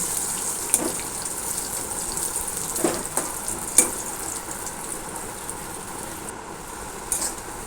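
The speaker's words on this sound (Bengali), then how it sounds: "এবার নাড়াচাড়া করে আমি লাল লাল করে আলুগুলো ভেজে তুলে নেব" Potato pieces seasoned with turmeric sizzle and fry in a pan, giving a steady soft hiss broken by occasional crackles and pops, with no one speaking.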